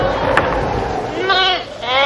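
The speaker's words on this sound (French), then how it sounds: "Une trentaine de moutons" Sheep bleat in a flock resting on hot ground in open country, wavering cries rising near and loud over a steady background.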